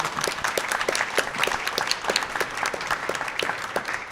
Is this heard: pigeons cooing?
no